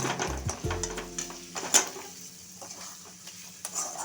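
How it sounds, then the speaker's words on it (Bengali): Chicken pieces with chili powder frying in a pan for Punjabi-style chicken, a soft sizzle under intermittent stirring and a sharp metallic clink of utensil on pan, close and quiet with no talk. "লঙ্কা গুঁড়ো দিয়ে মাংসটা এবার একটু কষে নেব"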